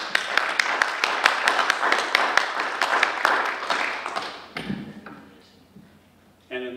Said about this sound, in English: I think we ought to give all of our speakers a round of applause.